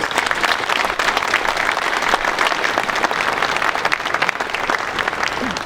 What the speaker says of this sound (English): I just want you to give him applause